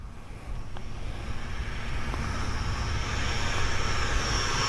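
Banana Hobby MiG-17 radio-controlled jet with a 90mm electric ducted fan flying past a runway, a rising whooshing whine that grows steadily louder over wind noise outdoors.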